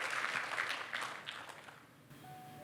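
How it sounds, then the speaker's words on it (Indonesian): A church congregation claps, the applause loud at first then thinning and fading away, leaving a quiet room with a faint tone near the end. "Tepuk tangan bagi Allah kita"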